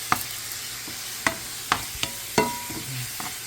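Meat cooking in a pan, with a soft steady sizzle broken by several sharp knocks and scrapes of a utensil against the pan.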